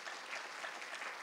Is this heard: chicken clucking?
no